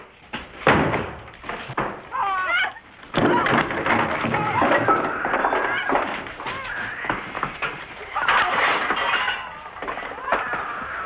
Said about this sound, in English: Go, break the door.